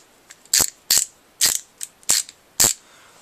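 Flathead screwdriver working the bottom pistol grip screw on an AK74 rifle: six sharp, close metallic clicks and scrapes in uneven bursts, with brief quiet gaps between them and no talking.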